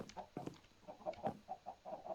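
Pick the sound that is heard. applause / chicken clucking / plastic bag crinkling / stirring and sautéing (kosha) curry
chicken clucking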